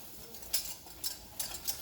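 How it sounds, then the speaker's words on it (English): Flour being stirred into melted butter in a pan for a white sauce: soft scraping strokes with a few sharper utensil taps against the pan, quiet and close. "It's time to add your flour all at once and give it a little bit of a stir"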